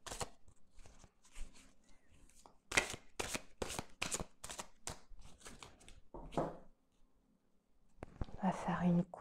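Tarot cards are shuffled and cut for a reading in a quiet room: a series of crisp, close riffling bursts separated by short pauses, with a soft voice speaking near the end.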